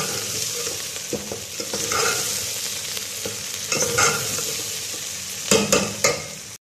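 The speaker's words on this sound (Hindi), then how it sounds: "तो 5 मिनट हम इसको फ्राई करेंगे" Okra (bhindi) fries in a pan while being stirred, giving a steady close sizzle broken by scraping stirs and louder bursts of clatter near the middle and toward the end.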